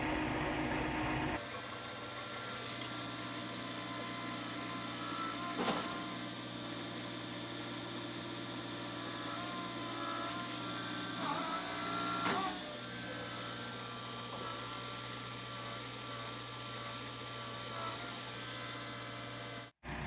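A JCB backhoe loader's engine runs steadily at close range, a constant droning hum with tonal whine and rattling machinery, broken by a few brief clanks and bumps before cutting off abruptly at the end.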